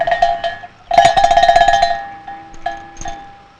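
A metal bell clangs a few times up close, a sharp strike ringing out and decaying, followed by softer, lighter dings.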